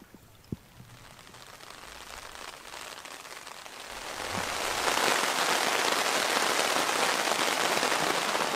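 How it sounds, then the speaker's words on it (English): Rain falling steadily on a camp in the boreal forest, starting as a soft patter and swelling after a few seconds into a loud, dense, continuous hiss close by, with no voices. "we decided to call it a bit early and to settle in early as well because the rain's coming down"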